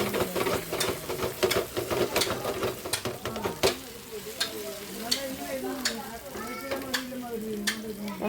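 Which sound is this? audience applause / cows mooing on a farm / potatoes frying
potatoes frying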